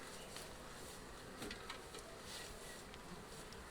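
Honey bees buzz steadily around a hive entrance during a beginner's hive inspection, a soft, continuous hum with individual insects passing close now and then.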